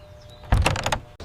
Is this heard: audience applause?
no